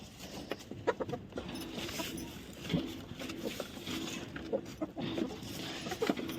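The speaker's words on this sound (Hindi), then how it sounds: "मूली के पत्ते मुर्गियों को भी दे के आते हैं।" Chickens cluck and peck as they are fed radish leaves, soft scattered clucks and short calls over a faint outdoor background, fairly quiet and close.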